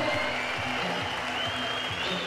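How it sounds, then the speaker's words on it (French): Fairly faint audience applause for a children's Cimande martial-arts performance, continuous and even throughout, with a low rhythmic background sound beneath it. "On les applaudit de fond."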